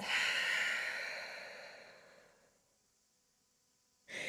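A long, deep exhale during a yoga dancer's pose, Natarajasana, heard close and alone. It fades out slowly over a few seconds and is followed by a brief fresh breath at the end.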